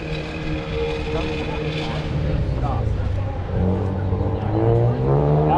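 A 2015 Ford Focus with a 2-liter turbo four-cylinder engine runs an autocross course at a car show. The engine drones steadily and rises in pitch as it accelerates, with background noise underneath throughout.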